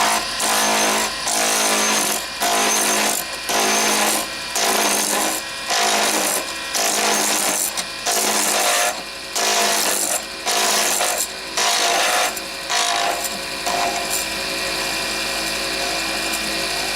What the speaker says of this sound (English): I turn pretty much as fast as the lathe will move.